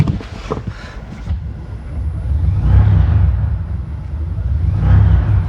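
An electric motor fitted in a Land Cruiser EV conversion runs on the throttle, giving a steady low drone and hum that swells twice and stays fairly loud, with wind-like noise and no speech.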